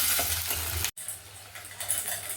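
Garlic sautéing in sesame oil for a garlic kulambu, a steady close sizzle and hiss with stirring, briefly cut off for a moment before the frying noise resumes, no voices.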